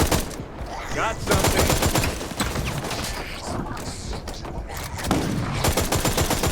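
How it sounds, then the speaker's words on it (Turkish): Near-continuous gunfire in the online treasure-hunting shooter Hawked, loud rapid shots rattling through the whole stretch with brief dips, a voice speaking faintly underneath. "Bak bana arkadan sıkıyor gene"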